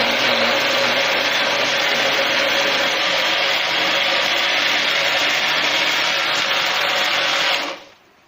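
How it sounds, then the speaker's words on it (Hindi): A blender grinds lentils and barley for beef haleem with a loud, continuous motor whir and a gritty rasp, holding steady for several seconds before stopping at the end. "इसी तरह हम सारे जो ये दाल और ये जौ है इसको हम ब्लेंड करेंगे"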